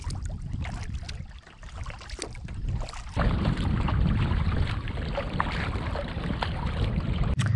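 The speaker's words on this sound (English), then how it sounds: "We are paddling George Lake." A canoe paddled across George Lake in Killarney Provincial Park: soft, uneven paddle splashes and water swishing close by, over a steady outdoor wash of wind that grows louder partway through.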